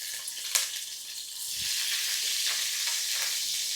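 Garlic sizzles steadily in hot oil in a pan, a continuous bright frying hiss that swells after a brief clink and holds alone, close and moderately loud.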